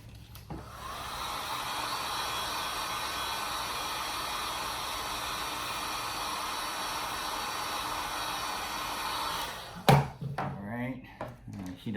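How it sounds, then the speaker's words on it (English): A heat tool blowing hot air onto a Babolat racquet bumper during grommet replacement, a steady whooshing hiss for about nine seconds that cuts off abruptly, followed by brief handling clatter and talk. "So I'm gonna go ahead and just make sure I heat this up a little bit."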